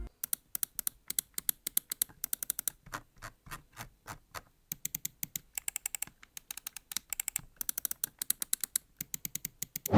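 Rapid bursts of sharp, crisp button clicks from an Endorfy LIV Plus Wireless mouse, close up, fired in quick clusters with brief pauses and no talking.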